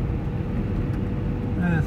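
A car engine hums steadily in second gear on a winding mountain road, a muffled low drone heard from inside the cabin, with a brief voice near the end.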